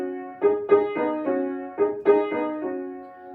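Solo piano plays a repeated motive in 5/8 from an ABRSM exam piece. The short phrase is heard twice, with a longer held final note giving a lilting, uneven dance pulse, close and clear.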